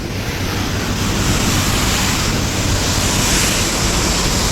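Loud, continuous roar of rushing water, a dense broadband wash with a low rumble, steady and close, no voices present.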